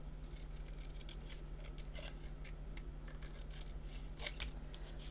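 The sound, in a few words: scissors snipping a paper photo card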